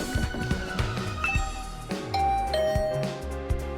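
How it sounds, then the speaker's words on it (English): A doorbell chime rings at Tsubasa's room door in the video game The Hundred Line: Last Defense Academy, with clear tones sounding twice over steady background game music. "I rang the doorbell to Tsubasa's room."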